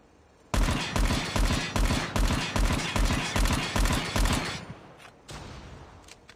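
Rapid three-round bursts from an M16 burst rifle in Call of Duty, about a dozen evenly spaced sharp volleys in a steady rhythm, loud and close, tapering off into a couple of softer clicks at the end.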